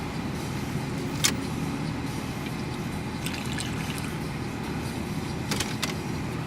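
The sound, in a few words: Subaru Impreza 2.5RS car engine running, warmed up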